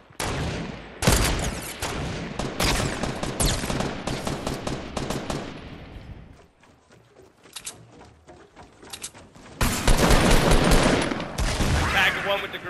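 Gunfire in Fortnite, with dense bursts of rapid shots close up, then a quieter stretch of scattered single shots before heavy firing resumes at the end.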